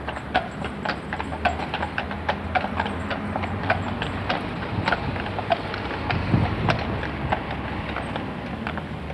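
Brewery horses' hooves clip-clop steadily along a town road in 1974, a continuous run of sharp, close hoofbeats over rumbling wagon wheels and wind noise.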